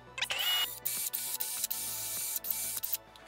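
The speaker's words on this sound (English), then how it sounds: "clean off some of the corrosion that's on there with a wire brush" A wire brush scrubs corrosion off a Camaro's brake hub during a rotor replacement, heard as close, bursty scraping strokes separated by short pauses and sharp metallic clicks.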